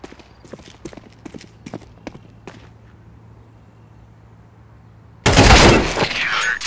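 Footsteps in Counter-Strike 2 tap out a quick run of crisp, sharp steps that slow and fade over several seconds, and then a sudden loud burst of noise cuts in and keeps going.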